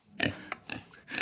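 A farm pig grunts and oinks in a short series of about four close, rough bursts, heard on its own without talk.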